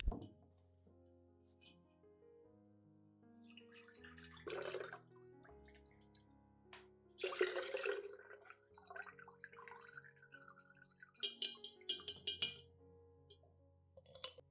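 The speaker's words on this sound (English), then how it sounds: "I will filter out all the rice grains, keeping only the clear liquid." Rice water being filtered and strained to remove the grains, leaving clear liquid: intermittent bursts of pouring and splashing with dripping and glassy clinks between them, close by over soft background music.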